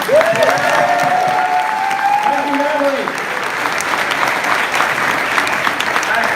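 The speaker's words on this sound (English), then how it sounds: "let's give her a round of applause for teaching our kids" An audience gives sustained applause, a dense steady roar of clapping throughout, while someone speaks briefly over it at the start.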